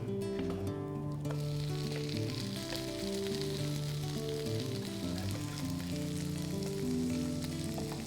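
Mexican-style uttapam fry in oil on a pan, giving a steady, close crackling sizzle throughout, with a brief clatter at the start and no voices.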